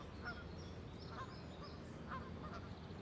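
City geese honking in the United States: a few scattered honks rising over a steady low background rumble, moderately distant and fairly faint, with no voices.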